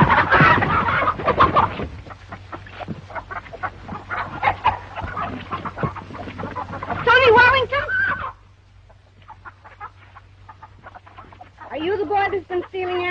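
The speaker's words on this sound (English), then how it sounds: "he can't hurt them chickens" Chickens cluck and squawk around a 1934 western farmyard, busy and close, with sharp bursts of clucking and a few louder cackles, while people talk over them and a steady low hum runs underneath.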